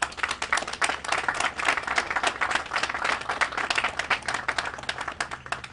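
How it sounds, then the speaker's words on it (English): A crowd at a city officials' community meeting breaks into a round of applause, many hands clapping in a dense, steady burst that holds evenly throughout. "they deserve a round of applause"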